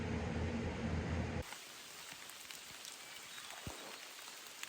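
Steady rain falls on a rainy morning along the Appalachian Trail, a close, dense hiss of drops hitting surfaces that softens after the first second, with a few louder individual drips.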